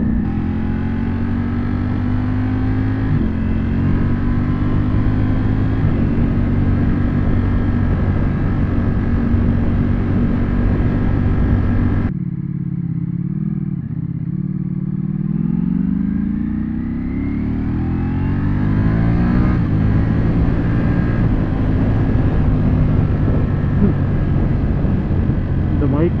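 A Ducati Panigale V4 motorcycle accelerating hard, its loud engine note climbing through the gears, cutting off briefly, then surging and rising again close by, with wind noise throughout.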